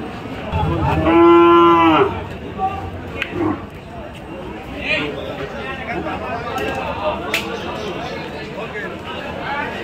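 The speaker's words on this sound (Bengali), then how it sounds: "বেশ সুন্দর হাটের গরু" Cattle at the Saksar hat market moo loudly and nearby in one strong call, followed by steady crowd chatter and people talking among the animals.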